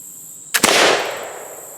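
A black powder gun fired with a light 20-grain charge of Swiss powder, giving a sharp double crack followed by a hissing, decaying roar, loud and close.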